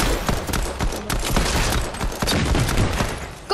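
Gunfire in Fortnite crackles in repeated loud shots with uneven spacing, some bursts close together, ringing out alone over a dense in-game background with no talking.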